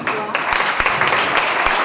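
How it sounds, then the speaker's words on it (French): Applause at a formal ceremony honouring microfinance delegates, a continuous wash of clapping with several sharper claps standing out, steady and fairly loud throughout. "applaudissez s'il vous plaît"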